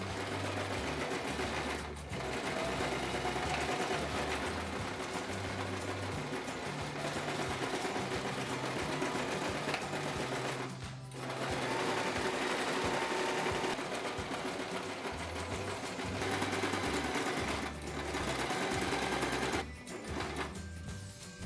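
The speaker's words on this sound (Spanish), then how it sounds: "vamos a llevarlo a la máquina de coser y vamos a coser todo el contorno dejando un trocito aquí abierto para darle la vuelta" Domestic sewing machine stitching all around the edge of a fabric apron, its fast steady whir running in long bursts with a few brief pauses where the needle stops and restarts, close and loud with no talking.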